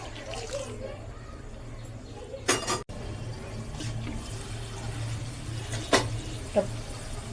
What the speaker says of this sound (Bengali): তার আগে অবশ্যই জলটা দিয়ে দিচ্ছি এই গরম জলটা এর মধ্যে আমি দিয়ে দিলাম